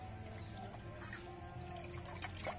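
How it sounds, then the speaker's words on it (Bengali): Chopped raw potato is rinsed in water, soft trickling and sloshing close by with small splashes, faint and continuous. "এখন ধুয়ে তুলে নিচ্ছি।"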